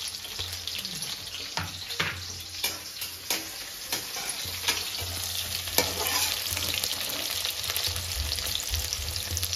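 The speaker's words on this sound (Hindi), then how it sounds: "तो फाइनली तेल गर्म हो गया है उसके बाद हम डालेंगे प्याज और मिर्च दोनों साथ में" Onions and green chilies frying together in hot oil, a steady crackling sizzle throughout with scattered sharper pops and occasional stirring scrapes, close and fairly loud, no talking.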